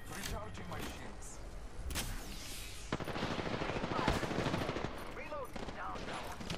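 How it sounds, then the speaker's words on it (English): Enemy gunfire rattles in a video game shootout: loud, dense bursts of rapid automatic shots with heavy impacts run continuously, with voices mixed into the din. "Enemies are shooting at me."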